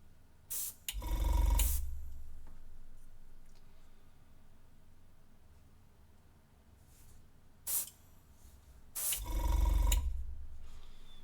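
A hand spray bottle squirts cleaner in two separate sets of sharp, close hisses, each a short spritz followed by a longer burst, with quiet gaps between them and no voices.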